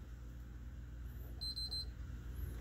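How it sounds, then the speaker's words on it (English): A PlayStation 3 console gives a short run of quick, high electronic beeps as its power button is held, faint and brief over a steady low hum, with no talking. "hold the power button until you hear beep"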